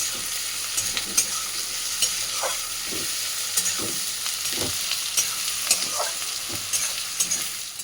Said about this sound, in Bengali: পেঁয়াজটাকে ভালো করে একটু লাল করে ভেজে নিচ্ছি।